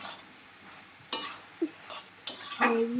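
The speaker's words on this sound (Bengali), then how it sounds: "ওটা দিয়ে এবার নাড়াচাড়া করছি" Spices being stirred in a cooking pan: a few separate scrapes and clinks of a utensil against metal, fairly close, with quiet pauses between the strokes.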